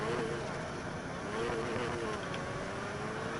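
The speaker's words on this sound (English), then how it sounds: "the original engine sounds real solid, like real nice, like perfectly in tune for the R7" Engine of the R7 in NFS Heat, a Hoonigan drift build, a loud continuous roar with slowly wavering pitch, filling the short stretch without pause and partly masked by broadband noise.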